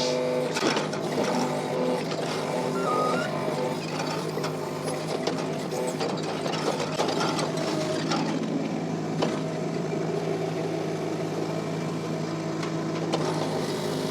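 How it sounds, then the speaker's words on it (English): A digging machine revs as it churns through compacted red clay clods at a house build site, producing a continuous, dense mechanical clatter and grinding rumble that stays close and steady throughout, with no talking. "I'm gonna have to rev the machine up a little bit."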